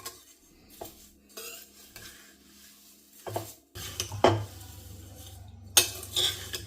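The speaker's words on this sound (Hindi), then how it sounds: "पाँच से 7 मिनट मुझे हो गया है इसको चलाते चलाते" A spoon scrapes and clinks against a small kadhai as namkeen is stirred and dry-roasted over low gas. Sparse scrapes at first, then a denser rattle with sharp metallic clanks, close and with no voices.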